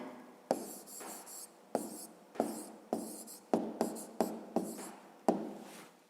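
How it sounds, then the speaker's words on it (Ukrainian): A pen or pencil writes an answer by hand for a fifth-grade math exercise, with a series of about a dozen short, close scratchy strokes, each starting with a soft tap, and no talking. "Ну що ж, записуємо тоді відповідь."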